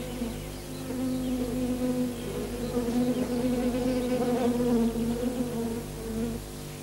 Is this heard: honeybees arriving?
yes